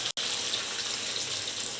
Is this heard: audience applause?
no